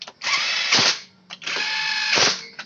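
Ratchet wrench tightening bolts on an automatic scooter's body panels, two long buzzing bursts of rapid clicks close up, each ending in a harsher grinding stretch, separated by a short pause.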